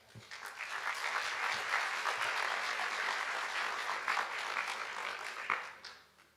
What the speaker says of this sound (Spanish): El tercer aplauso sería de esta jornada, es el más especial